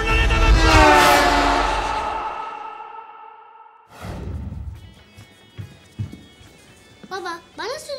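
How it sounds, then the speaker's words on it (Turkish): A loud blaring horn sounds for a couple of seconds, then fades into quieter clattering and rattling noises, with a voice shouting near the end. "Korna çalıyorum!"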